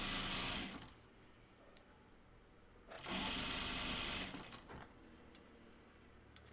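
A sewing machine stitches open-weave, thready denim for Morgan jeans in two bursts of a few seconds each, separated by pauses with faint handling clicks.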